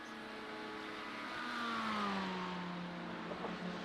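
LMP2 prototype race car approaching in iRacing during the Daytona 24 hour race, its engine whine swelling louder, then sliding down in pitch as it draws alongside and passes, fading slightly afterward.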